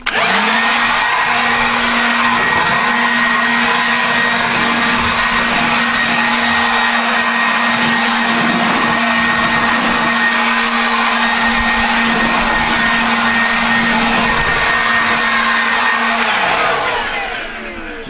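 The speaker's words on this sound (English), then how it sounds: "I'm going to blow it out now" A powered blower blasts sanding dust off a Karana timber deck outdoors, a loud continuous whooshing roar with a steady motor whine that holds for about sixteen seconds, then winds down at the end.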